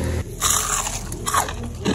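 Crunchy Indonesian vegetable fritter (bakwan), fried crisp and not oily, bitten close up: a sharp crackling bite followed by several loud crunchy chews in quick succession, with no talking.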